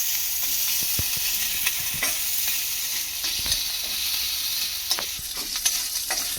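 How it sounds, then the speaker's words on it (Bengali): Tempering spices frying in oil in a pan while being stirred, with a steady close sizzle and scattered scraping stir strokes throughout, no voices. "তো দেখুন ফোড়নটা বেশ সুন্দরভাবে ভাজা হয়ে গেছে।"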